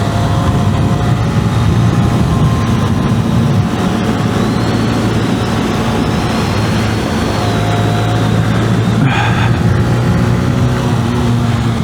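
A 125cc motorcycle fitted with a big rear sprocket accelerates along a twisty road, its engine droning steadily and loudly throughout, with strong wind rush over the low hum and a brief rasp near the end.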